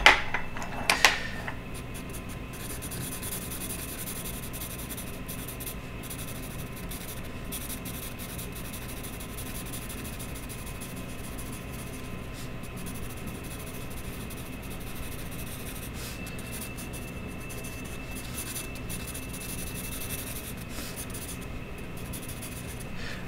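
Sharp pencil shading on paper produces a soft, continuous scratchy rubbing, quiet and close, after a couple of brief knocks at the start.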